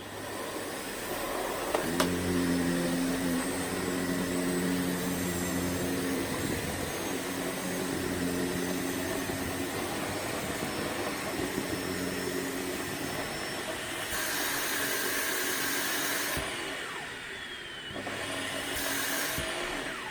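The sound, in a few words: Sebo K3 Premium vacuum cleaner running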